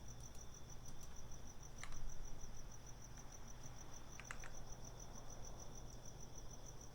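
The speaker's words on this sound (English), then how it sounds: "It's just like cricket noises." Crickets chirp in a steady high-pitched trill that persists throughout, faint and continuous over a low background hum.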